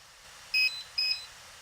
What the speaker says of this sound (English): the series of beeps shows that it is all connected